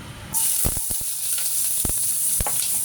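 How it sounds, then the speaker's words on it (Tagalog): Ginger sautéing in a small amount of cooking oil, a steady close sizzle with a few sharp spatula scrapes and stirring taps, and no one speaking. "igigisa na natin ang ating ginger"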